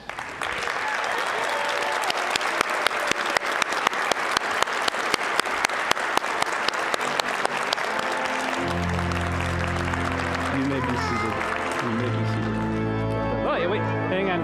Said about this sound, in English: let us welcome Annette to our fellowship by acclamation and applause.